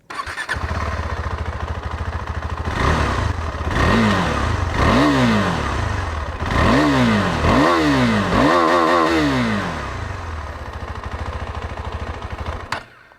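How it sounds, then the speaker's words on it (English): A KTM 390 Adventure motorcycle idles with a steady thrum, then revs several times in rising, falling surges before settling back to idle, loud and close. "Let's hear the exhaust note of both the motorcycles"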